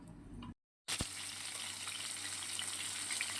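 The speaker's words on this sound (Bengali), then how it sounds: "এবার মাছটা ভাজবো।" Pieces of katla fish fry in hot oil in a kadai with a dense, steady sizzle. The sizzle drops out briefly near the start, then continues loud and unbroken.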